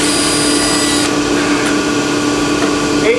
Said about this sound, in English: Let me pull out these 8 screws.